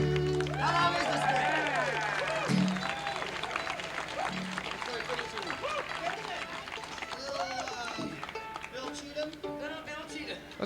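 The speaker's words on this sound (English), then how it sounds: "We have a big hand of applause." An audience at a banjo and fiddle contest claps and cheers, loud at first and then easing into a steady patter, with voices talking over it.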